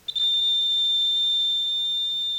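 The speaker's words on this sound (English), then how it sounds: "Now the buzzer works because the electricity is flowing in a complete circuit." An electric buzzer sounds a single sustained, piercing high-pitched tone, switched on abruptly and holding steady and loud until the end.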